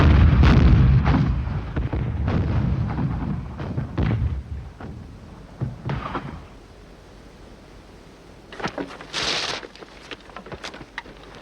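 A bridge is blown up with explosives in a WWII film scene: a heavy, rumbling blast up front that fades into crackling debris and scattered sharp bangs, loud and close.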